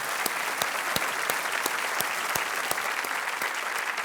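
A studio audience on a televised quiz show claps for a contestant, crisp rhythmic applause with regular sharp beats carrying steadily throughout.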